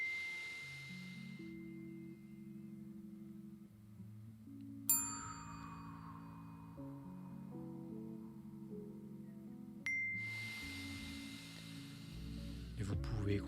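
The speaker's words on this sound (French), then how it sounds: "en écoutant les sons des cloches qui vous accompagnent" Meditation bells strike a few times during a guided cardiac-coherence breathing session, each ring at a clear onset near the middle and again later, then sustaining and decaying softly over a low, steady ambient music bed.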